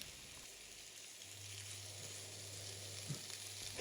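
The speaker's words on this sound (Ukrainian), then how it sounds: "Печінка стріляла менше, ніж звичайно." Quiet, steady sizzling of chicken liver frying in a covered pan, with a faint hum underneath and an occasional small pop.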